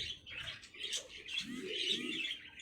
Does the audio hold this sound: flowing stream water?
no